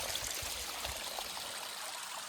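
A small mountain spring on a hike in Austria's Karwendel trickles steadily, giving a soft, continuous wash of running water with no talking.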